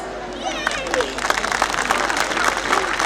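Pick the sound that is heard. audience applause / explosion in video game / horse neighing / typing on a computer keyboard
audience applause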